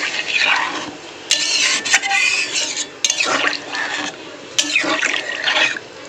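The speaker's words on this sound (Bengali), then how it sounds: "কালিয়াটা যে করব জলটা দিয়ে দেবো" Water is poured in several short splashing bursts into a pot of fish kaliya curry with potatoes, loud and close, with brief pauses between pours and no talking.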